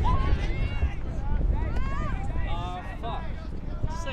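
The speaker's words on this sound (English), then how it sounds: "Wind gusting." Gusting wind buffets the microphone at an outdoor mixed ultimate frisbee match between Australia and Colombia, a continuous loud roar with rising and falling rumble while a commentator talks over it.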